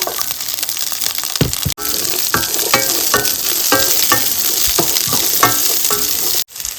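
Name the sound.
small shallots frying in browned coconut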